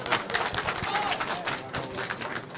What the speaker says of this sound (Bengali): সবাই একটা হাততালি দে